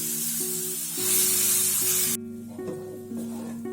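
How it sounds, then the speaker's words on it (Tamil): Coconut paste frying in a hot pan for a mutton curry, a loud steady sizzle that cuts off sharply partway through, leaving quieter crackles under a repeating electronic tone. "தேங்காய் விழுது நல்லா வறுபட்டதும் சுருண்டு வரும்."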